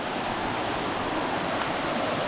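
A steady, full rush of flowing spring water fills the scene, continuous and close, with no break or voices.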